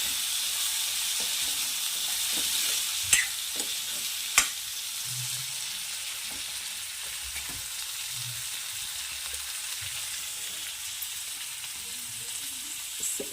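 Dry guar bean curry sizzles gently in a pan while a spoon stirs it, with a soft continuous hiss and a couple of sharper scrapes and knocks partway through, and nobody talking.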